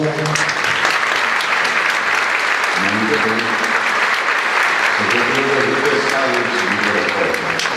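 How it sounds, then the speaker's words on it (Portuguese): An audience applauds steadily and loudly as a guest steps onto the stage at the opening night of a book fair, with a few voices speaking briefly over the clapping. "Por favor, para os seus aplausos."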